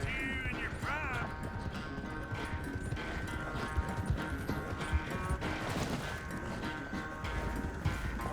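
In Red Dead Redemption 2, a horse gallops with a fast, continuous drumming of hooves mixed with game music and ambience, moderately loud throughout.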